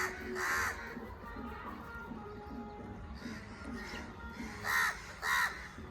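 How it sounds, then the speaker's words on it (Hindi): Crows caw repeatedly around a rooftop, harsh calls arriving in loud clustered bursts near and farther off over a steady background hum. "गाइज आप ना कौवे की आवाज़ सुनो"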